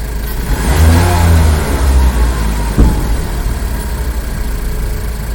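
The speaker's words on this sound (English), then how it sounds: "as I rev that engine" A car engine, tested with diagnostic equipment, roars loud and close as it is revved, its deep, rumbling pitch rising and falling, then settling back to a steady idle with no talk.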